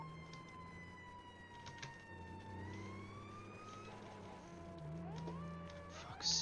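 Fire engine siren in the video game GTA 5 roleplay, a distant wailing tone sweeping up and down over a low engine drone, fairly faint and steady with no voices.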